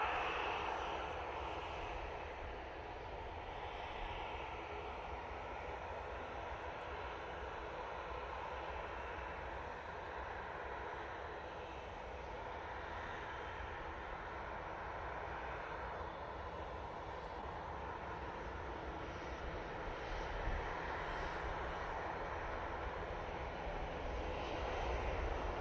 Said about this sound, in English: we've got the Kuwaiti Airways A330-900 coming in for Kuwait City